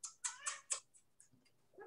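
A cat gives a quick run of four or five short, soft meows close by, followed by a few fainter chirps in an otherwise quiet room.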